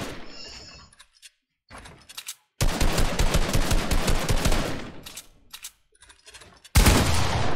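Pump shotgun blasts in a Fortnite-style solo boxfight tournament: bursts of gunfire and building clatter, with a long dense stretch of rapid shots in the middle and a loud final blast, separated by short quiet gaps.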